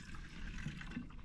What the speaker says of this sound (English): I'm gonna pour it in here.